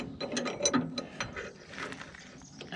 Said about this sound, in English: I get my wrench in, this would go much better.